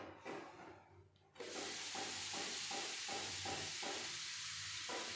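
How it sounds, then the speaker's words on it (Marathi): Thalipeeth flatbread roasting on a hot griddle: after a quiet start, a sudden loud hiss and sizzle bursts up and holds steady with bubbling crackles, close by and without talk. "आपलं थालीपीठ झालेलं आहे. आता हे आपण शेकून घेऊया."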